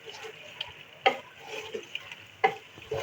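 Goat liver pieces frying in a pan for an Eid dish: a quiet, steady sizzle broken by a few sharp scrapes as a spoon stirs them, with no voices.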